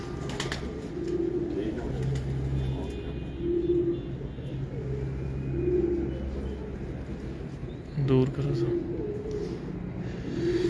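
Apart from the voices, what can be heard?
pigeons cooing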